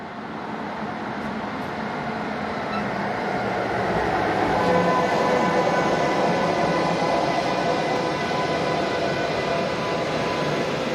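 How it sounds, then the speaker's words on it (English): Express passenger locomotive 101017 pulls Intercity train IC 1808 from Köln into a station, a broad rolling rumble of wheels and carriages that swells steadily and stays loud as it arrives. "express passenger locomotive number 101017 arriving with train IC 1808, the 1539 from Köln, going forward to Westerland"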